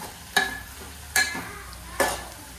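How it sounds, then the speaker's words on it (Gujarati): Fenugreek leaves (methi bhaji) with coriander-cumin powder stirred in a sizzling pan, three distinct close scraping strokes at an even pace over a low continuous frying hiss. "થોડુંક ધાણા જીરું મિક્સ કરી નાખશું હવે થોડીક વાર આપણે ચડવા દઈશું"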